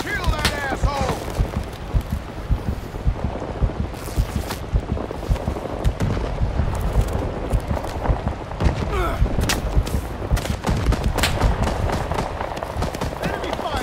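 Dense, chaotic gunfire and thuds of battle in the Vietnam War shooter Rising Storm 2: Vietnam crackle continuously, with sharp shots near and far under frequent shouted voice lines.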